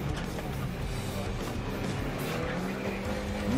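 A Porsche 997 Turbo sliding in a street-racing video game, a continuous engine drone and road noise that swells into a short, rising tire squeal at the very end.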